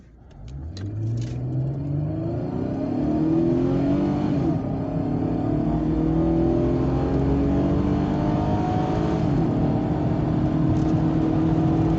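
A Chevrolet Camaro V6 with paddle shifters accelerates hard from a standstill, its engine rumbling and rising steadily in pitch through rising gear sweeps, loud and close with no talk over it.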